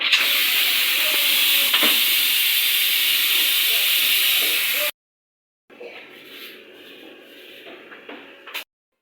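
Steam hisses loudly and steadily out of a pressure cooker as it is opened while cooking yakhni, a continuous broad rush for about five seconds, then a pause and a quieter, uneven hiss follows.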